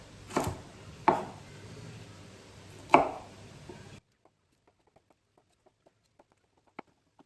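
Knife chopping broccoli on a board: three sharp, close chops spaced about a second apart, followed by near silence with a few faint ticks and one small click.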